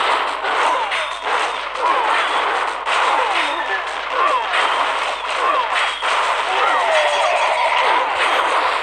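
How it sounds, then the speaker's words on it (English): Continuous battle noise from a Clash of Clans attack as giants pound enemy defenses: dense, steady booming and crackling impacts with game effects layered over it, loud throughout and with no pauses. "My giant going to destroy every last defense."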